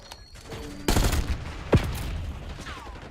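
Gunfire and sniper shots in the video game Black Ops 6: several sharp, loud shots ring out in quick succession over a busy, crackling battlefield backdrop, with no talking.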